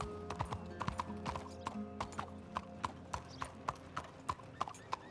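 Horse hooves clip-clopping at a steady gallop in Red Dead Redemption 2, sharp regular thuds close and loud over a low steady hum, with a brief horse whinny among them.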